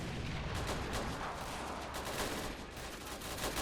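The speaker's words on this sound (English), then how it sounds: "Artillery, start firing." Artillery fire in a WW1 battle video game rumbles as a dense, continuous barrage of booming blasts and crackling gunfire, loud and unbroken for the whole stretch with no speech.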